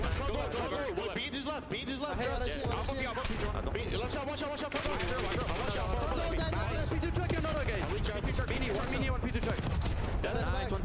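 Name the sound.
gunfire during a Valorant Champs match, video game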